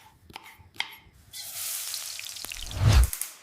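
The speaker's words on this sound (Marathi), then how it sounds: "ही खसखस अगोदर आपण भाजून घेतोय।" Poppy seeds dry-roasting in a pan for dry-fruit laddoos, a soft crackly sizzle and scrape of stirring that swells toward the end, with a few sharp taps early on and no talk.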